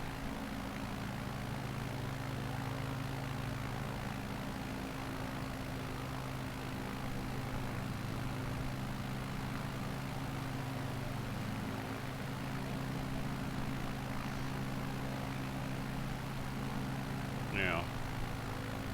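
Simulated Piper propeller plane in Flight Simulator 2020, its engine a steady, continuous drone with a strong low hum held just below full throttle, running throughout.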